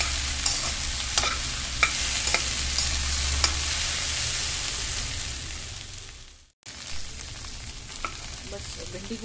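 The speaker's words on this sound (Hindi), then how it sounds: "इसको भी उसी वाले कढ़ाई और ऑयल में हम लोग थोड़ा सा फ्राई करेंगे" Okra cut into large pieces fries in oil in a kadai, giving a steady loud sizzle with occasional stirring clicks, briefly cutting out before resuming at a slightly lower level.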